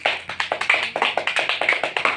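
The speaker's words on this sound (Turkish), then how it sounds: "Bir alkış bakalım Kaan" Applause for a young boy after he answers a quiz question, a quick steady run of sharp claps from a few hands, close and continuous with no talking over it.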